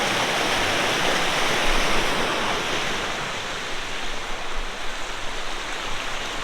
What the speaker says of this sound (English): So this is the Hardraw Force waterfall.